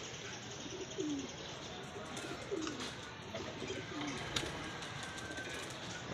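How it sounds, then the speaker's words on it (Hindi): Pigeons coo softly in low, repeated throaty phrases amid a busy background of chirps and ambient noise. "कबूतर ही कबूतर ऊपर हो चुका है"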